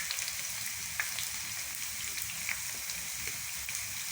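Ginger slices fry in oil with a quiet, even sizzle and a few faint pops, heard alone at low level.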